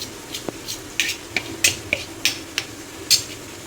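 Spoon scraping and tapping in a pan as garam masala, coriander powder, black masala and chilli powder are stirred together, a string of sharp, evenly spaced clinks over a faint background hum.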